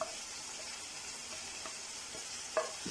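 Chopped green chilli and finely chopped tomatoes cook in a masala, producing a soft, steady frying hiss with a few faint stirring clicks, the loudest near the end, and no talking.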